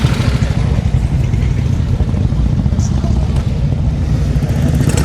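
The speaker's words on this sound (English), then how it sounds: "We've got a lot of motorbikes going past, hopefully you can hear me." Motorbike engines rumble loudly and continuously as several bikes pass nearby at a military vehicle display, a dense low roar with no break.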